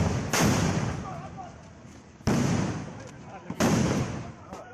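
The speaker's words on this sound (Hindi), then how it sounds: "गोलियां चल रही हैं, हथगोले भी चले" Gunshots and hand grenades during a violent political clash in Kasmanda, Sitapur, Uttar Pradesh: three loud, sharp blasts each followed by a rumbling decay, with a smaller crack between the last two.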